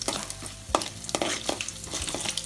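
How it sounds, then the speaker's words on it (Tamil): Mustard seeds and urad dal crackle and sizzle in hot oil during tempering, a steady close-up fry with sharp pops and spits scattered throughout. "கடுகு உளுத்தம் பருப்பெல்லாம் நல்லா வந்து ப்ரௌன் கலராக வரணும்"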